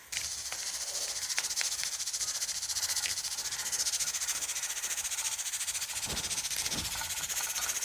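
Dried red chillies and curry leaves fry in hot oil with a steady, close sizzling hiss that holds through the whole stretch, with a few brief crackles and spits rising above it.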